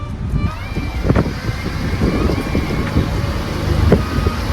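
A motorboat ride through the Bichitrapur Mangrove Sanctuary near Digha, with a steady engine drone and rushing wind noise across the whole stretch, plus scattered knocks and faint voices in the background.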